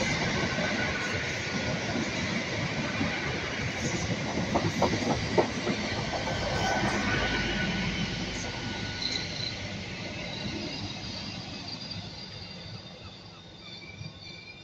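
A Great Western Railway service from Penzance to Cardiff Central pulls into a station, a steady rumbling roll with clicking wheels and a few sharp squeals, gradually easing and fading.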